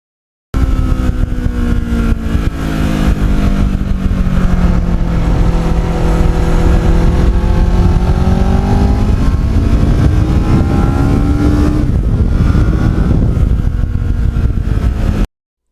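A restored Kawasaki Ninja motorcycle engine hums steadily on a ride, loud and close, its pitch sweeping up and down through gear changes with a smooth, continuous drone and wind rumble.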